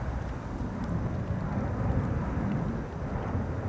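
Airliner departing from runway 36L, the Polderbaan at Amsterdam Schiphol: a broad, steady jet roar at moderate distance, rumbling and sustained without obvious rise or fall, with no voices.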